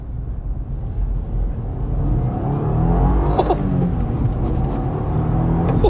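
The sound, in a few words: Subaru WRX 2023 sedan accelerating onto main road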